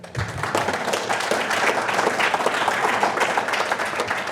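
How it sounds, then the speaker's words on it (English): A standing audience at a construction management school kick-off meeting claps their hands, a dense, lively round of crowd clapping that holds steady at full strength throughout. "Clap your hands."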